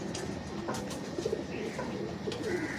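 Pigeons coo softly in low repeated phrases inside a pigeon tower cage, with faint background noise and no talk.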